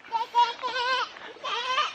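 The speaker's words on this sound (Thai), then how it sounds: "พี่ไปดูแกะแล้วเนี่ย" Sheep on a farm bleating in a few wavering, nasal calls, close and fairly loud, packed into a couple of seconds with no talk over them.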